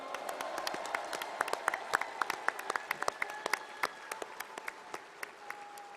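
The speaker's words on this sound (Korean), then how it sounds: "축하와 위로의 큰 박수 부탁드립니다." A large audience at a political party convention applauds with sustained, rolling clapping that carries a little room echo, punctuated by a few sharper individual claps, at moderate distance and with no talking.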